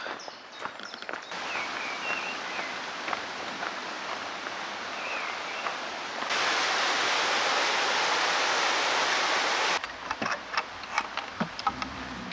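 The River Dart flows past beech and oak woodland along the Two Moors Way, making a steady, close, full rush of water. The rush swells louder midway before briefly easing, with no talk.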